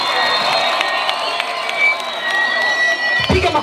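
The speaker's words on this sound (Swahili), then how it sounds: "jipigieni makofi mengi sana" A large crowd at a youth political rally in Geita, Tanzania claps and cheers loudly for a performing musician, with dense continuous applause and excited shouts close by throughout.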